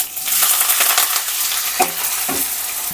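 Chopped onions and curry leaves hit hot oil with fennel seeds in a pan for a Tamil dal dumpling curry, giving a steady loud sizzle with a couple of sharp stirring clinks near the end.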